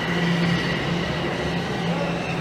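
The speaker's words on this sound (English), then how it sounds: "We'll let this train roll out." Train rolling out of a subway station beneath a downtown Toronto campus, a steady loud rumble of wagons with a faint rail whine and no talk over it.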